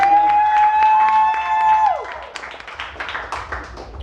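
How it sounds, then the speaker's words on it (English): Audience at a comedy show in a liquor lounge breaks into applause and scattered clapping as a sustained musical note from the band fades out, the clapping moderately loud and close. "How about one more round of applause for the band and Mike Dava, Sarah, everybody."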